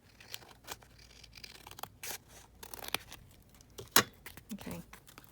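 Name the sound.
scissors trimming alcohol ink background paper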